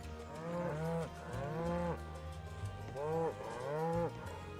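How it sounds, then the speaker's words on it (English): A cow in Final Fantasy VII Rebirth moos four times in two paired calls, low drawn-out bellows, loud and close, with no talk. "Don't tell me the cow is my next opponent."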